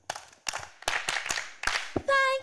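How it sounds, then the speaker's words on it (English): A small gathering claps in a few scattered, uneven bursts rather than full applause, fairly faint, with a voice speaking briefly at the end. "Clap for me."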